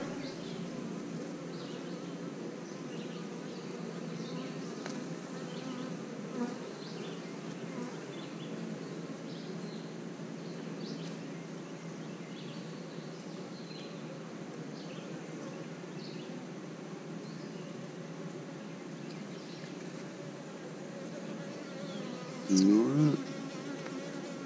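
Dense, steady buzzing of many honeybees around open hive frames full of brood in a bee yard, soft and continuous, with a brief louder buzz near the end from a bee passing close.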